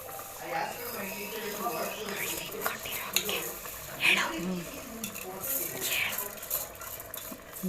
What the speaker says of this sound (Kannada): ಈಗ ನೆನೆಸಿ ಇಟ್ಕೊಂಡಿರ್ತಕ್ಕಂಥ ಅಕ್ಕಿನ 3 ಲೋಟ ಅಕ್ಕಿ ಹಾಕ್ಕೊಳ್ತಾ ಇದ್ದೀನಿ